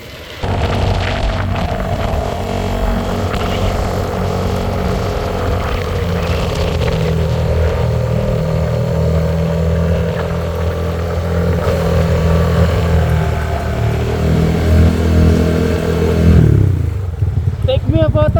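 A motorcycle engine on a ride near Malico, Pangasinan, droning loud and close with steady revving and wind rumble throughout, dropping away sharply near the end.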